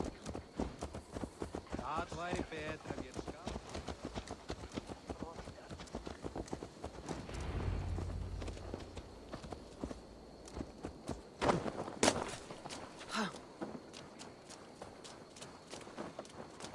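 Horse hooves clip-clopping at a walk in the Assassin's Creed Valhalla video game, a steady run of crisp close hoof strikes throughout while characters talk over them.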